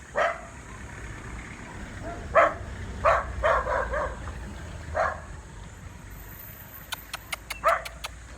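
A dog barks a few times in short, separated bursts, fairly close, with faint background noise and some sharp clicking near the end.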